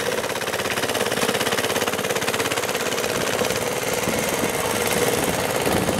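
Vehicle engine labouring under load while stuck during a river expedition on the Rio San Martin, a loud, steady mechanical drone with a rapid pulsing rattle running continuously throughout.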